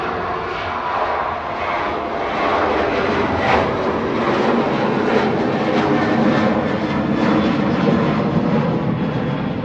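Ryanair jet airliner at Manchester Airport, its engines producing a loud, steady roar that swells slightly and holds throughout.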